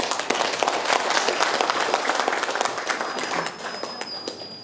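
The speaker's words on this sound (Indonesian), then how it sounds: "kita kasih aplaus dulu buat narasumber kita" An audience at a Bank Indonesia public discussion on regional inflation in Majalengka applauds the speaker with dense, loud, sustained clapping that tapers off slightly toward the end, with no one talking over it.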